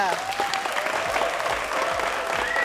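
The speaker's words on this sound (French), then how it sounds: "On va encore les applaudir." Studio audience on a French-language talk show set applauding, a dense, even burst of clapping that holds steady from start to finish, with faint voices underneath.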